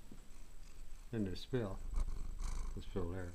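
A cat's low, continuous rumbling purr runs underneath as a person speaks a few short phrases nearby.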